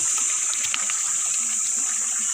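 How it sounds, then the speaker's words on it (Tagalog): River water flows in a steady, continuous rush with a bright hiss on top, no voices, just the unbroken sound of moving water. "Napakaganda ng ilog ko."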